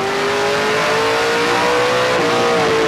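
Stock cars race on a short oval track in the A&W 300, with loud engines roaring continuously at full throttle. A steady engine drone rises and falls slightly as cars hold position, dense and close, with no talk.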